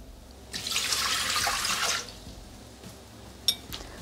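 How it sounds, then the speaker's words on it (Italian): Water poured into a Thermomix mixing bowl for focaccia dough, a steady splashing, hissing stream running about a second and a half close by, then stopping, followed by a couple of faint clinks. "Mettere nel boccale l'acqua."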